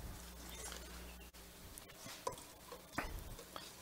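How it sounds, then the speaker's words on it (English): Spoon stirring a liquid mixture of garlic, celery salt, pepper and bay leaves, the ingredients dissolving, with soft scraping and gentle clinks close by, steady and quiet over a low background hum. "Just go ahead and stir this up and dissolve all the ingredients."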